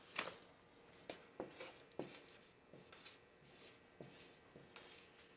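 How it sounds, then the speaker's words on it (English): Marker or chalk writing on a board in a talk-show studio, a series of short squeaky strokes and taps alone in a quiet room, close and fairly soft. "Go ahead and write right up here."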